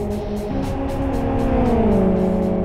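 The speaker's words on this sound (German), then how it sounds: "Cesarek hat mehr Schwung geholt in der letzten Kurve und kann hier auf Startziel Wurm ausbeschleunigen." A race car in the Live for Speed racing game accelerates out of a corner onto the start-finish straight, its engine note loud and close, rising in pitch and then shifting down.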